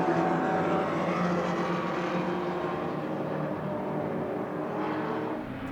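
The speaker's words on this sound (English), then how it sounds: "side-by-side racing between the American car and the Ferrari as they cross the line together, side-by-side, up the hill" Race cars, an American car and a Ferrari running side by side up a hill at a speed festival, their engines a steady, loud, dense roar that holds throughout with only a slight dip near the end.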